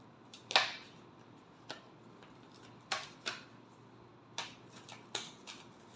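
Tarot cards are shuffled in short, crisp bursts of riffling and flicking, spaced irregularly with quiet gaps between, close and faint.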